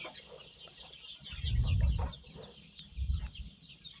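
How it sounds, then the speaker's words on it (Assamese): Chicks and hens on a chicken farm, with dense high chirping and peeping throughout, plus a couple of low clucking bursts nearby and a few sharp knocks. "এতেও 1000 পোৱালি আছে।"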